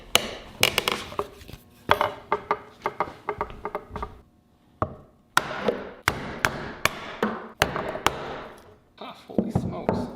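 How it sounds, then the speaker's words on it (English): A hammer strikes a woody dried mushroom again and again to break it apart, sharp close knocks in irregular bursts with short pauses between groups of blows. "Might need a hammer."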